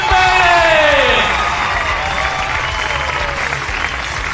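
Loud applause and cheering from a crowd greeting a handball player at a club's season presentation, with whoops and shouts over dense clapping that stays strong throughout.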